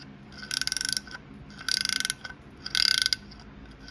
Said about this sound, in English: this bolt is coming out relatively easy with the nut welded on there and with the heat